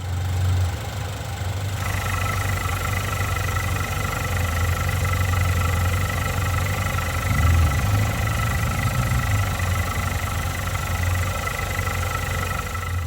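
A Ford EcoBoost car engine idles steadily up close with the oil fill cap off, a constant low rumble with a slight mechanical ticking, no voices.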